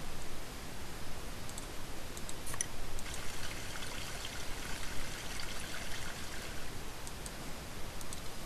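Steady water flow from a valve just opened in the horror game True Fear, a continuous soft rushing trickle heard alone at low level throughout.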